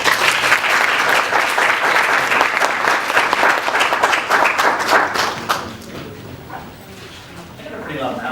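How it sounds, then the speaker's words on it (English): An audience bursts into loud, sustained applause to welcome a speaker named Daniel, then the clapping thins and fades. A voice can be heard faintly as it dies away. "So please, a round of applause, and let's welcome Daniel."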